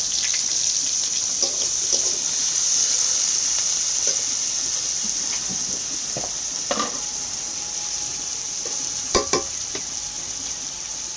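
Onions frying in hot oil in a wok give a continuous, even sizzle, with occasional scrapes and clinks of stirring over the top.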